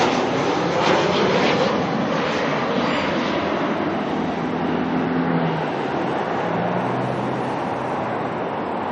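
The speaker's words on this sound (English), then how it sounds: "QF151 from Melbourne coming on in next." Qantas flight QF151 from Melbourne, a jet airliner, coming in to land at Auckland Airport, heard as a loud, steady broadband engine roar that holds throughout with a faint low drone rising underneath.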